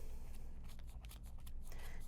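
Scissors snip through yarn wound on a Clover pom pom maker, a close run of quick crisp cuts over a low handling rustle, with no one speaking.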